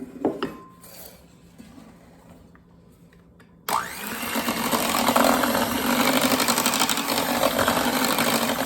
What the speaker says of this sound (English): we are going to mix that up with the electrical beaters